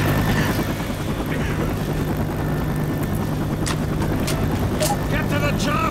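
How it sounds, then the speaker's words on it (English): A rescue helicopter arriving in the zombie shooter Left 4 Dead 2, its steady rotor drone running under excited players' talk, gunfire and game effects. "Our chopper's here."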